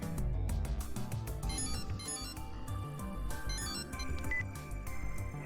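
A telephone rings in the visual novel Chaos;Child, set over a busy musical backdrop of dense tones and beats that runs steadily through the whole stretch.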